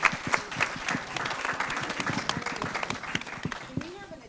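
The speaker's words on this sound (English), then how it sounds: "let's have a round of applause for everyone" An audience at a community event applauds the people at the front, a dense wash of clapping hands with cheers that runs the whole time, with voices and a few whoops mixed in.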